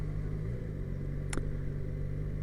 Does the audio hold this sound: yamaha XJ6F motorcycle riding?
yes